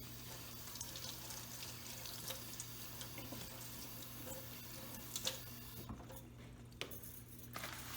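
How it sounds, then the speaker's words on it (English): A kitchen sink tap runs as hands are quickly washed beneath it, a steady soft splashing stream with small clinks, faint and close, cutting off briefly near the end. "give my hands a quick wash."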